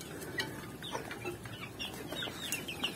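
Hens kept in a separate group on a farm cluck in a steady, busy chorus over a constant noisy background, with no voices.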